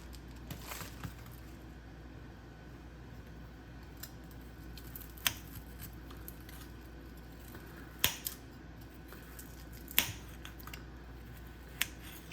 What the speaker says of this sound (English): I'm going to open this up and I'm going to cut it into small slices